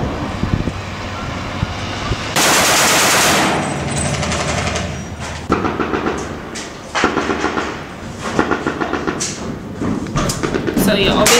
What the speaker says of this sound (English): obviously they're shooting blank rounds